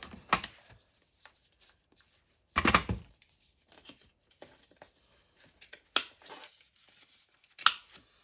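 Paper card having its corners rounded with a cutting tool, heard as a few separate crisp snipping and crunching bursts spaced apart, fairly close, with quiet rustling between.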